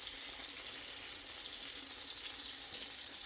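Cube steak fries in a pan for chicken fried steak, a steady, close, even sizzle and hiss of hot oil that continues unbroken with no talking.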